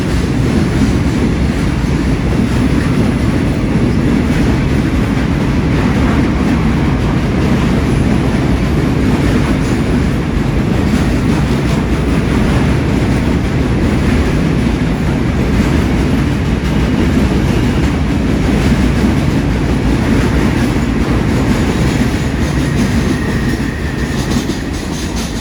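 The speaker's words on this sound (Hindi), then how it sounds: "अभी एक और रेलगाड़ी आ गया" A train arriving at Nakhon Sawan railway station in Thailand rumbles loudly and steadily, with wheels clattering over rails and a faint squeal near the end, close by and continuous.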